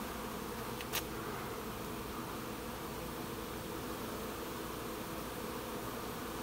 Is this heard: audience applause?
no